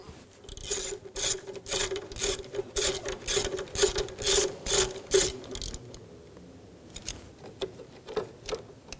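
A ratchet wrench clicks rapidly in quick bursts as a 10mm bolt is loosened from the throttle body bracket of a 2013-2017 Honda Accord 2.4L. Several loud rhythmic runs are followed by a few sparse clicks, with no talking.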